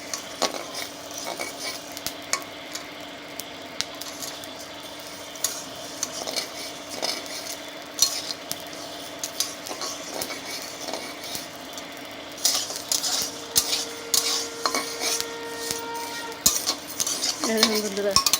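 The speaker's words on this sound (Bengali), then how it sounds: "এরকম করে আমি সব চালগুলো ভেজে নেবো।" Rice being dry-fried for a village puja offering, a spoon repeatedly scraping and stirring the grains around a metal pan with light clinks and a soft sizzle, steady and close with no voices.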